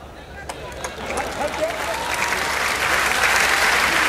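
Audience applause at a Hindi poetry recital, starting with a few scattered claps and swelling into steady crowd clapping, with a voice speaking early on.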